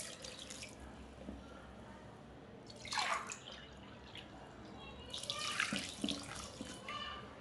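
Water poured into kneaded maida flour dough for Kerala black halwa, heard as two faint splashing pours separated by quiet, with light drips in a still kitchen.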